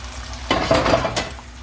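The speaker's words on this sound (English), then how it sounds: "my bacon, if you can see, still cooking" Bacon cooking in a breakfast pan, a soft steady sizzle under light clatter of a utensil against the pan, close and moderately loud, with a brief scrape near the end.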